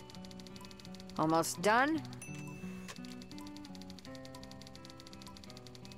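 Rapid typewriter keystrokes from the video game Thimbleweed Park, brief and fairly close, rising in a short burst over steady game music, with a voice speaking briefly.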